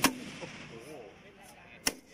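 An M-79 grenade launcher fires at an outdoor demonstration, heard as two fairly faint, hollow pops about two seconds apart over murmuring background voices.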